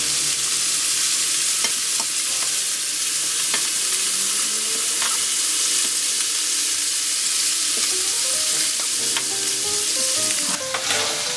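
Sausage frying in a pan gives a steady, close crackling sizzle with occasional clinks of a utensil against the pan, with no voices over it.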